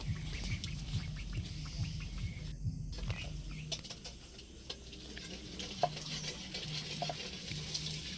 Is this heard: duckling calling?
yes